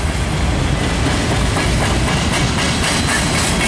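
Railroad cars roll steadily past close by, a loud continuous rumble with faint clickety-clack of wheels over rail joints and a light hiss throughout.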